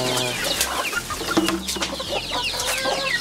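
Native chickens cluck nearby, a mother hen with her two-week-old and day-old chicks, giving short repeated clucks and calls mixed with higher peeps in an irregular farmyard chatter.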